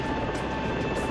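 A rescue helicopter in the flight simulation game SAR4 drones steadily, a loud, even rotor and engine roar filling the whole moment without breaks.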